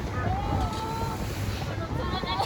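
Big ocean swells at Black Island wash and roar continuously under strong wind buffeting the microphone, with faint voices mixed in.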